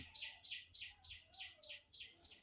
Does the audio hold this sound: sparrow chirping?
yes